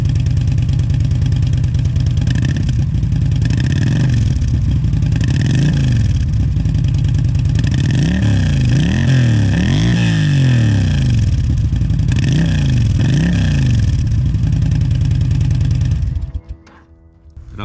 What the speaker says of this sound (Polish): Motocykl wyposażony jest w akcesoryjny wydech Boss